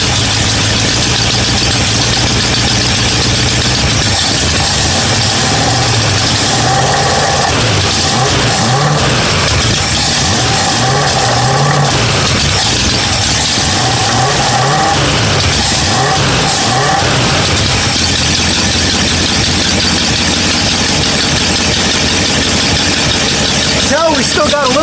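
An engine with a small exhaust leak idles roughly and loudly throughout, a dense continuous rumble with voices talking over it.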